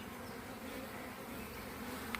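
Dense, steady buzzing of many honeybees in an open hive, a close, constant hum with no talking.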